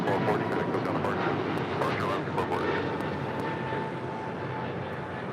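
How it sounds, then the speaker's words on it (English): An Alaska Airlines A321neo jet at LAX, a continuous moderate engine roar with faint tonal whine, mixed with radio chatter and voices. "That was Alaska Airlines flight 440 heading to Cancun in an A321neo"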